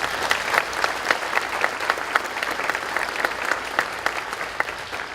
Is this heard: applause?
yes